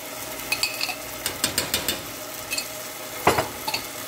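Ají panca and mirasol chili paste frying in a pan, with soft sizzling under scattered stirring clicks and scrapes of a utensil, a louder clatter near the end.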